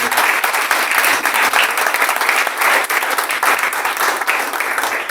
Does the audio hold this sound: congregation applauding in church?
yes